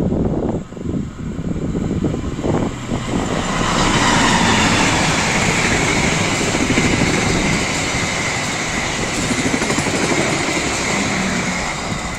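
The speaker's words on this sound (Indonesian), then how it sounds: "dari barat persiapan melintas langsung kereta api Pangandaran dengan tujuan akhir stasiun Banjar" The Pangandaran passenger train, bound for Banjar station, passes close by at speed, a loud roaring rush of wheels and rail noise with rhythmic clatter that builds and holds.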